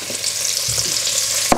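Tomatoes and paprika sizzle in a frying pan with chorizo, a loud, close, continuous fry with a soft thump partway through and a sharp clack at the end.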